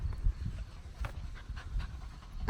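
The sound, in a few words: dog panting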